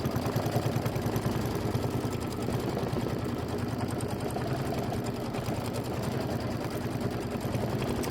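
An embroidery sewing machine stitches a quilt block, a fast steady mechanical whirring and rapid needle clatter running continuously and close, with no talking.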